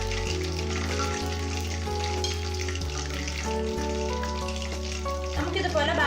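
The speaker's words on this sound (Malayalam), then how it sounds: "ബാക്കിയുള്ള ചിക്കനും കൂടെ ഒന്ന് ഫ്രൈ ചെയ്തെടുക്കാം." Pieces of chicken fry in hot oil for dragon chicken, giving a steady, close sizzle and crackle that runs beneath background music the whole time.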